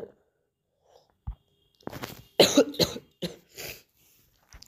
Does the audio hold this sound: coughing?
yes